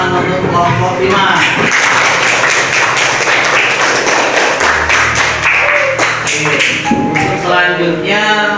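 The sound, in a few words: class clapping for a group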